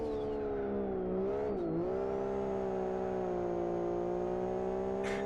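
A race car engine held at full throttle in the Live For Speed driving game, a loud steady high-pitched roar with a brief dip and recovery in revs as the car slides sideways, continuous and without talk.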